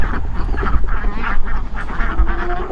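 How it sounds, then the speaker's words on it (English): Ducks quack in a busy, overlapping chorus close by, continuous over a low rumbling background. "So I come out to feed the ducks."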